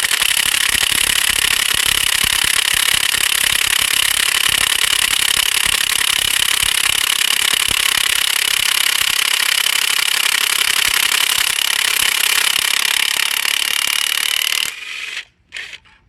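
A DeWalt power tool whirs continuously and loudly while loosening bolts on a 6.7 Powerstroke engine teardown, then cuts off abruptly near the end with a few brief clicks.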